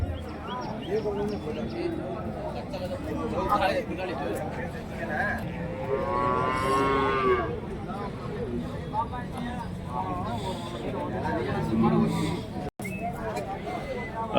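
Cattle moo at an open Friday cattle market, a drawn-out low call rising over steady crowd chatter, with more livestock and people milling about nearby.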